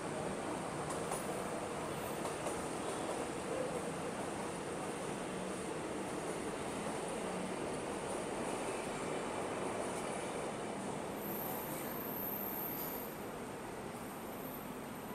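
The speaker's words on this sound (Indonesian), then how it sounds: "Nah itu KA Bandara lewat" An airport rail link commuter train passes along a double-track line, its steady broadband rumble and rolling wheel noise holding evenly loud for the whole stretch before easing slightly near the end.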